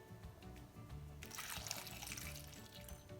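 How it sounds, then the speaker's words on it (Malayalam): Water poured into a pot of cucumber curry, a steady splashing pour that swells louder partway through and continues to the end, close and alone without talk. "ഇനി കുറച്ച് വെള്ളം ഒഴിക്കാൻ പോവാണ്"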